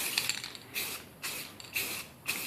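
Aerosol spray paint being applied to an AK rifle: several short hissing bursts, about five, spaced roughly half a second apart, close and fairly soft, with quiet pauses between each spray.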